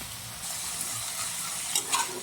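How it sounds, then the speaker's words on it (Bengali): Prawns fry lightly with salt in a pan, keeping up a steady, fairly quiet sizzle with a couple of brief louder stirring scrapes near the end. "হালকা নুন দিয়ে ভেজে তুলে রাখবো"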